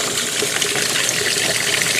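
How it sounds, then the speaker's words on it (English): A washing machine fills with water over towels and detergent, a loud steady rushing gush of incoming water with no pauses. "This machine is still filling."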